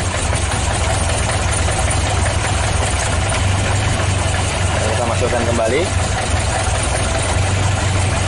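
A car engine idles steadily during a check of the air-conditioning idle-up solenoid, a close, continuous low rumble with a faint knock, while someone talks over it.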